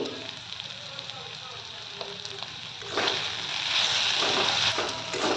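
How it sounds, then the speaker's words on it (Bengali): Arum flowers dry-frying in a pan with cumin and coriander powder, a steady close sizzle that grows louder and brighter partway through, with occasional stirring scrapes. "পুরো শুকনো করে ভাজা করে নেব"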